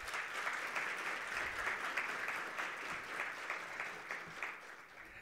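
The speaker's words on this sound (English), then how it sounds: "Let's please give him a round of applause" Audience at a green hydrogen conference in Namibia applauds a newly introduced guest, a fairly faint, even roll of many hands heard from a distance that tapers slightly toward the end.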